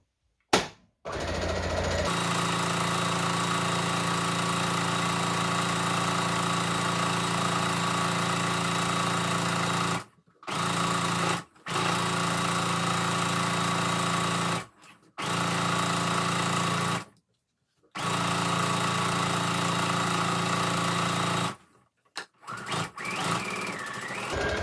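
A sewing machine stitches a scrub cap in long steady runs of fast whirring hum, broken by several brief pauses where the stitching stops and restarts, close by with no speech.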